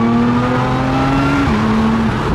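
A supercharged AMG four-cylinder car with an eight-speed dual-clutch gearbox accelerates, its engine roar carrying a steady high whine that holds pitch, dips briefly, then continues close and loud.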